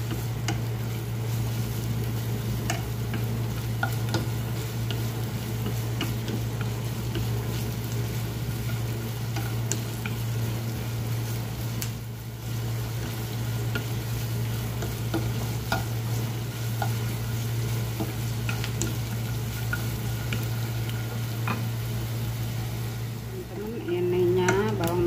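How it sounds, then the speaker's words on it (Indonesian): Garlic and shallots sauté in a frying pan, a steady sizzle and intermittent stirring scrapes running continuously at close range, with a constant low hum underneath and a brief clatter near the end. "Ditumis sampai harum, sampai kecoklatan ya, bawang putih sama bawang merah."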